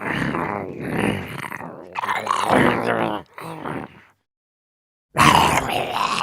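Low, drawn-out zombie moans and guttural groans in two long bursts, a second of silence, then another growling moan, loud and close with no other sounds.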